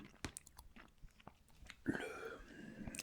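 Chewing on a sour, grapefruit-flavoured vegan candy, close and crunchy, with wet mouth clicks and a denser burst of mastication in the last second.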